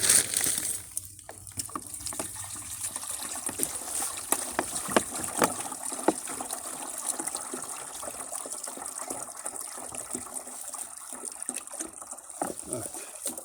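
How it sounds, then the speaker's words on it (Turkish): Water gushing and splashing steadily as it is poured into the tank of a motor, a continuous close rushing flow with irregular sloshes throughout. "Şu anda motora suyumuzu koyuyoruz."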